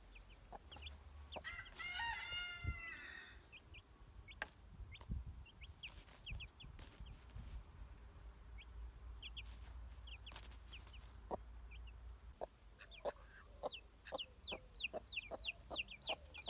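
Chickens clucking softly on a farm while a rooster crows once early on, with scattered sharp clucks and chirps over a faint outdoor background.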